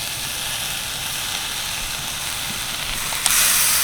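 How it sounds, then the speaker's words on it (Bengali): Rice flour and semolina soaked in milk poured into a hot pan, a steady hiss and sizzle that jumps sharply brighter and louder near the end as the liquid hits. "এবার আমি চালের গুঁড়ো আর সুজিটা যে দুধ দিয়ে ভিজিয়ে রেখেছিলাম সেটাই ঢেলে দিচ্ছি"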